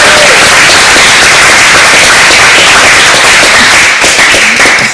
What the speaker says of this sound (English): He was honored, so I'd like to give him a round of applause.